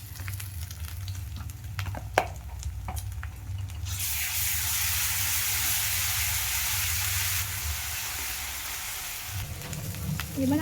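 Ginger garlic paste hits browned onions in a pan for a yogurt chicken curry, bursting into a loud, sustained hissing sizzle that eases off after several seconds, preceded by quieter frying and a few clinks.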